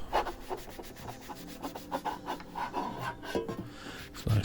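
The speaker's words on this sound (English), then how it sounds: "Another quick clean of the top." Cloth rubs briskly across the top of a Harvard H646 CB radio casing, a soft continuous scrubbing and swishing up close that comes in short strokes, with a faint bump at the end.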